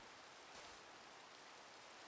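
Rain falling in the survival game Exoria, a faint, steady wash of even hiss with no voices, ending in one brief sharp click.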